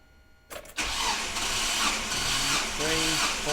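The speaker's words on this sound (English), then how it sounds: "I'll turn it over and open the throttle, and we generally cycle it around about 7 times" A Nissan Patrol TB42 engine cranks over steadily during a compression test, a loud continuous starter-driven churn with the throttle open, kicking in after a brief quiet start, with a voice speaking over the end.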